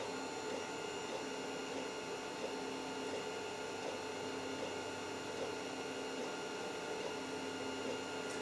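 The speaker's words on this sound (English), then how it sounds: "Yeah, that's printing. That's printing how a printer should print." A Creality CR-10S 3D printer works with its cooling fan running, giving a steady whirring hum with fine rhythmic stepper-motor chatter, close and continuous, with no talking.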